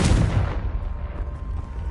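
A Confringo spell in Hogwarts Legacy bursts in a single loud, booming blast that fades into a rumbling decay over a couple of seconds.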